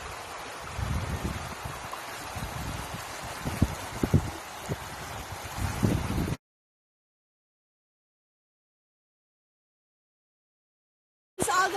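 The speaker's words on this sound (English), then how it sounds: "This is the river of Himugaan Baybay." Himugaan river in Baybay, a steady rushing stream flowing with gurgling water for about six seconds before falling silent, then briefly returning at the end.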